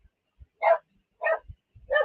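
A dog barks three times at close range, short loud woofs spaced about half a second apart, with faint low thumps between them and no talking.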